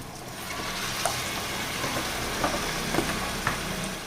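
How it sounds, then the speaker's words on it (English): Marinade poured into frying onions for murgh salan sets off a steady, dense sizzle, with a few sharp crackles and pops breaking through near the end. "now we're gonna add the marinade that we just made into the onions"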